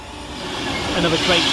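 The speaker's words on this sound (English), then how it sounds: "Another train taking us by surprise is 390-117, running 6 minutes late with 1 Romeo 22 from Glasgow Central to London Euston." A Class 390 train, unit 390-117, passes through Tame Bridge Parkway station, its broad rushing roar building steadily and growing louder toward the end with a rising hiss of wheels and air.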